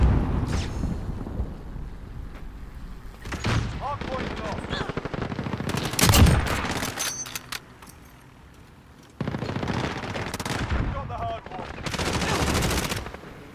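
Shotgun gunfire in the video game Rust, loud bursts of rapid shots in clusters with rumbling gaps between them and a pause before the firing resumes, with voices talking over it.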